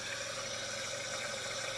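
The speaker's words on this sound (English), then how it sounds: "Because it's spraying all over the place here." Steady hissing spray of fuel injectors under pressure into a tub, from a Jeep Cherokee, continuous and fairly close, with a low mechanical hum underneath.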